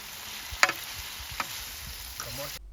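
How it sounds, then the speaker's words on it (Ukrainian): Peppers, mushrooms and onion fry outdoors in a pan made from a harrow disc, a soft background sizzle with a couple of clear metallic scrapes from stirring before the sound cuts off abruptly. "А тепер можна додавати перчик, печериці та цибульку. Також перемішуємо і накриваємо кришкою."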